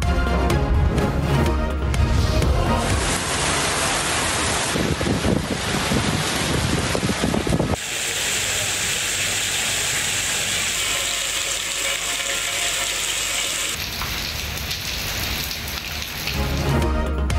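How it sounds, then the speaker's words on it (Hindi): Heavy rain falls in a steady loud hiss with strong wind buffeting the microphone, continuing without a break and changing in texture partway through. "लाहौर, इस्लामाबाद समेत मुल्क के मुख्तलिफ इलाकों में मूसलाधार बारिश"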